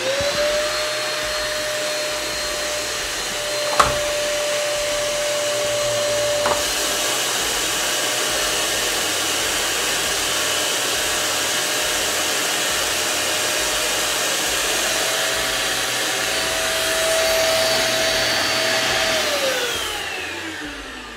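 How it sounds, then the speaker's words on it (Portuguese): A vacuum motor runs steadily on a We R Memory Keepers Mold Press while the magnetic frame holding plastic is lowered; a loud, continuous whine holds throughout with small clicks, then shifts in pitch near the end, with no talking. "Eu vou ligar o aspirador primeiro e vou abaixar essa moldura magnética"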